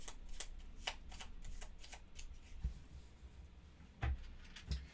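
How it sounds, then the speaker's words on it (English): A deck of board game cards for Escape Plan is shuffled by hand, giving soft riffling bursts and a few dull taps on a table, close and fairly quiet. "Do a quick shuffle here"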